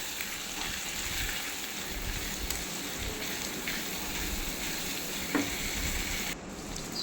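Ground cumin, coriander and Kashmiri chili spices fry in oil for a mutton masala curry, giving a steady, dense sizzle throughout with faint stirring scrapes and no voices.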